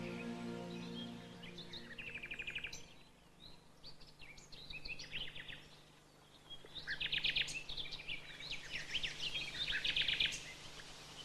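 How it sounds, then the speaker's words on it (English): A nightingale sings from a dense thicket near an old oak, with bursts of rich warbling and rapid chirping phrases, fairly close and clear, broken by short pauses and set over a faint steady background hum. "Especially one whose song is considered the most beautiful in the land, the nightingale."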